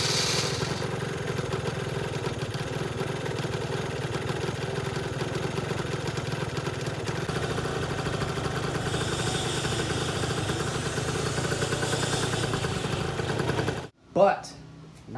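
A Vento motorcycle engine idles steadily and close for about fourteen seconds with an even mechanical chatter, then cuts off abruptly, followed by a brief handling noise.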